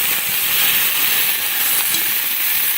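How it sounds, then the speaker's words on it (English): Sausages browning in a hot pan, a loud, steady, close hiss of sizzling fat that holds evenly throughout with no talking. "We'll go over here and check on our sausages. What we're doing is just kind of browning the one side."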